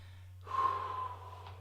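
A single breath is exhaled during box-breathing practice: a soft, airy breath lasting under a second over a low electrical hum, close to the microphone, with no speech.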